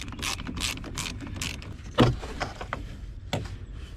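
A 10 mm socket wrench working the battery terminal connections on a 2018 Silverado, giving short mechanical clicks and metallic clunks in an irregular rhythm, close by, with one louder knock partway through.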